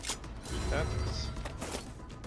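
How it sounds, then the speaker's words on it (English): A weapon magazine being swapped in the sci-fi game StarRupture, a quick run of mechanical clicks, clacks and a ratcheting slide, close and fairly loud, over faint background noise. "Changing mags!"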